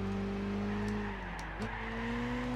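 Race car engine in Gran Turismo 6 holding a steady droning pitch, briefly dipping as it shifts, then climbing again, with faint tire noise, steady and close.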